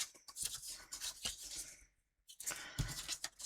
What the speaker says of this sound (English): We're going to fold on these score lines.